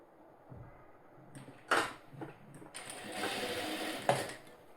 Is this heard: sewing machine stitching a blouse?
yes